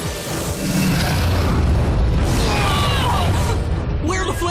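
A cartoon fire attack erupts with a loud, roaring burst of flames that swells and holds as a dense rushing whoosh, mixed with crackling effects and voices from an animated battle.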